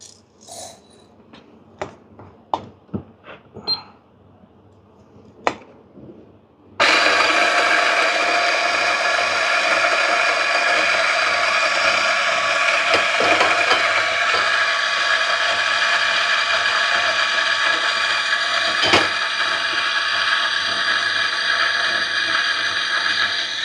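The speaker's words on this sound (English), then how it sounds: "On the DF54, I'm going to use around 16 grind setting." A DF54 coffee grinder grinds Brazil Cerrado beans. A few sharp clicks and rattles come first as beans are loaded, then a loud, steady motor whir with a gritty grinding texture runs nearby for about seventeen seconds.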